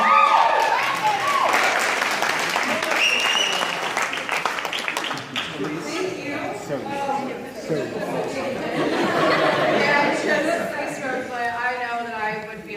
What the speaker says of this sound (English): help me welcome with a big round of applause